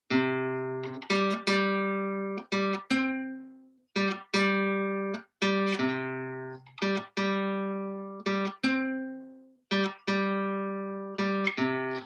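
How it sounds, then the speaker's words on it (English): A plucked bass line repeats a short phrase in an uneven long-short dotted rhythm, clear and alone, with each note ringing and decaying. "I've taken the same bass line and I've changed the rhythm by adding dots."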